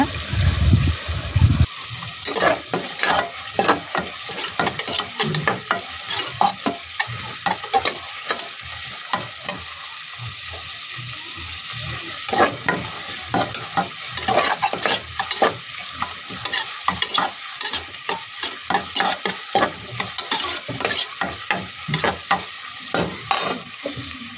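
Onions sautéing in a pan for a country-chicken curry, an ongoing sizzle with frequent rhythmic scraping stirs of a spoon against the pan, close and without talk.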